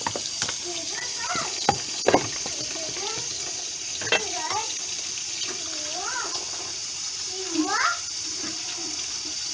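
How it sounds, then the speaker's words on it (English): Cold tap water runs steadily and rinses pickle relish in a sink, a continuous close hiss with small clinks and handling sounds, while a voice talks over it. "We're going to rinse with cold water."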